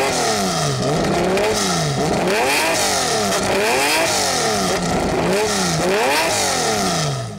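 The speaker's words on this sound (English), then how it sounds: "Absolutely massive center exit exhaust, completely huge, and no cats, because it's a race car" A Lamborghini Diablo GTR race car's V12 roars loud and close through a huge center-exit exhaust with no catalytic converters, revving up and dropping back in repeated sweeping blips.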